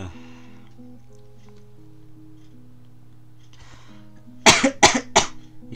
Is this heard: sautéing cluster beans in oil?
no